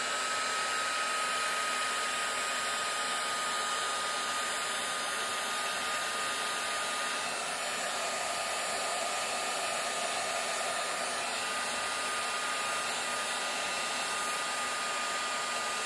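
A hair dryer blowing on wet paint on a craft tag, a loud, steady, close whirring roar that runs unbroken the whole time, with no voices.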